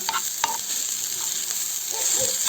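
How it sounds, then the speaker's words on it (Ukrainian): Chopped garlic frying in a pan with carrot and onion, a close steady sizzle with scraping stirs across a couple of seconds. "Додаємо у нашу моркву з цибулею. Підсмажимо одну хвилиночку,"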